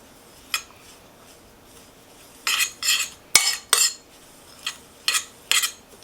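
A spoon clinks and scrapes against a bowl while shredded coconut is stirred with drops of black food coloring, several close, crisp bursts of stirring with short pauses between them.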